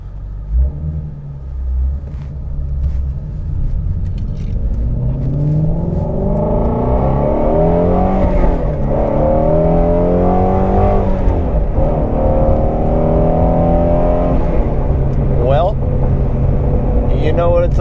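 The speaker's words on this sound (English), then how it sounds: "That engine, pretty epic noises come from this thing" A Shelby GT350R Mustang engine rumbles and then revs repeatedly, pitch climbing and dropping through gear changes, loud and close, like from inside the car.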